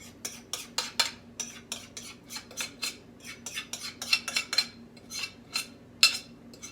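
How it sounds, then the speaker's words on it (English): A utensil stirs dressing into a chicken casserole mixture in a dish, giving a steady run of close scraping and clinking strokes with no talk. "We're just going to stir it up."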